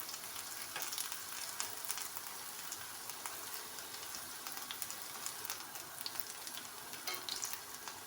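Pişi dough made with potato and no yeast or baking powder fries in a pan, giving a steady, close crackling sizzle with small sharp pops and no talking.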